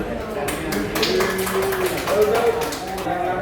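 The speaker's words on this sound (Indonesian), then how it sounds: "Kita kasih tepuk tangan" A high school guidance class claps together, a quick run of sharp hand claps mixed with voices talking over the applause.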